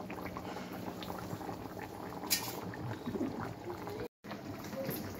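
Fish curry bubbles steadily in a pot, a continuous close simmering burble with a brief clink and a short gap near the end, no voices over it.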